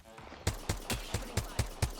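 Video game gunfire rings out as about seven evenly spaced, punchy shots in quick succession, loud and close.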